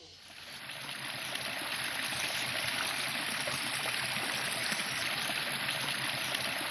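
A small stream flows steadily in a rural setting, a constant close rushing and trickling of water that rises in the first second and then holds even throughout.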